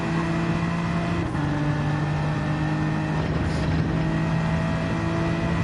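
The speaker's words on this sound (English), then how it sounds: "how much of a task it is for Jamie further up the field to try and make an overtake in what isn't a slow Supra." Race cars in Gran Turismo 7 racing on the Brazil circuit, including a Toyota Supra and a Nissan, give a steady droning engine whine that holds near-constant pitch with slight shifts, loud and continuous with no talk.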